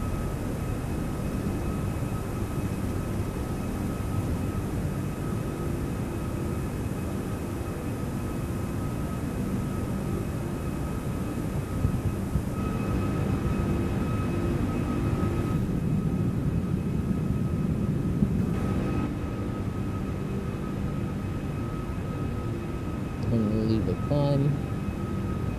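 Jet engines of a ToLiss A340-600 climbing in X-Plane 12 make a steady, continuous roar that runs for the whole stretch, with cockpit voices speaking over it.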